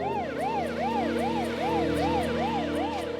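An ambulance siren wails in a steady, rapid up-and-down cycle, clear and fairly loud, with a vehicle's low rumble beneath.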